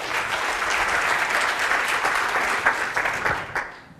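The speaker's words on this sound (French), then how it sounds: "Applaudissez-vous." A room full of people claps steadily and loudly, the dense applause thinning slightly as it tapers off at the end.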